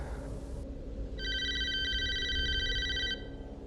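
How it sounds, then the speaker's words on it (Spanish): A phone ringtone plays as a bright, steady warbling tone for about two seconds, fairly close, over constant low background rumble, with no voices. "volví a escuchar el tono de llamada"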